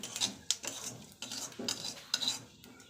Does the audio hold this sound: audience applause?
no